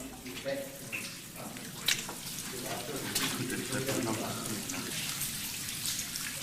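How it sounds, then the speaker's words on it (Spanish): Water seeping from the surface trickles down a deep cave wall, a soft, close, irregular wet trickling and dripping with small splashes, steady and fairly faint. "Filtraciones de agua procedentes de la superficie rezuman a lo largo y ancho de esta pared."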